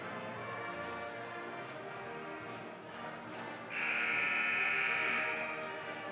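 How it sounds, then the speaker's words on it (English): Over the hum of a crowded indoor court venue, a loud electronic buzzer signalling the end of a break blares for about two seconds, then cuts off. "Buzzer sounds here indicating the end of the break."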